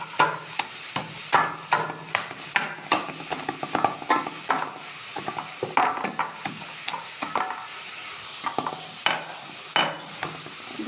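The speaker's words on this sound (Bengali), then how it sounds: "মাছের মাথাগুলো একদম গুঁড়ো গুঁড়ো হয়ে যাচ্ছে।" Rohu fish heads being crushed and pounded in a pot for a potato curry, a steady run of sharp clattering knocks and scrapes of utensil on metal, close and fairly loud.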